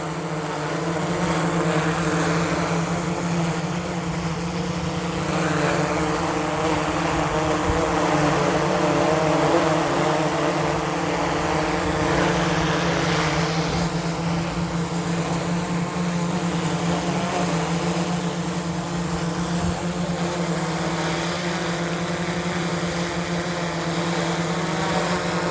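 A DJI Air 3S drone flying in strong wind drones on with a steady, loud propeller whine and buzzing harmonics, continuous and unbroken throughout, with wind rushing underneath.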